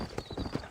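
Horse hooves clip-clop in the Red Dead Redemption game, a short run of quick, close, fairly loud strikes over faint background noise.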